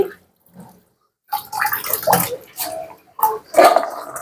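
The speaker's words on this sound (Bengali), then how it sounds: "একটু ধুয়ে নিচ্ছি" Quartered small potatoes are washed by hand in a bowl of water: bursts of sloshing and splashing come close and fairly loud, separated by short pauses, with no talk.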